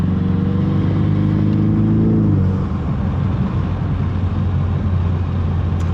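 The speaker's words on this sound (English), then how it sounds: "let's open up those exhaust valves. Haven't heard it in a while." A car engine with its exhaust valves opened rumbles loud and close, a deep rising rev that drops back after a couple of seconds into a steady throaty idle.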